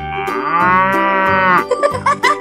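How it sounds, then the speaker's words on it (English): A cartoon cow in a 3D animal long-slide video game lets out one long, loud, drawn-out moo that swells and fades, followed by a short burst of choppy game sound effects. "Cow."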